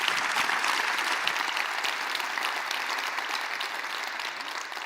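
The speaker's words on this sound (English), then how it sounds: "Please give the panel a round of applause." An audience at a Metropolitan Council State of the Region event gives a panel a round of applause, a sustained, even wash of many clapping hands that slowly fades over about five seconds.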